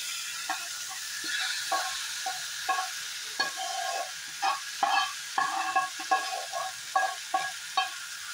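Capsicum, tomato and onion, coated in spice and rice flour, fry in a pan with a soft sizzle under repeated rhythmic scraping and stirring strokes of a spatula, close and fairly quiet.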